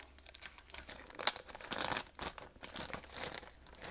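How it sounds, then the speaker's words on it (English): A thin plastic bag from a Coghlan's survival kit crinkles and rustles close up, in uneven bursts of crackling handling noise, quiet overall with no voices. "Now this plastic bag is a little bit thin."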